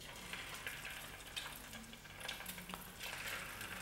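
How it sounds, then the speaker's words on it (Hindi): Chicken pieces shallow frying in hot oil in a pan, a dense steady sizzle and crackle with small bursts as the pieces settle, close and continuous. "ऑयल हमारा गर्म हो गया है, अब हम इसके अंदर चिकन फ्राई करेंगे"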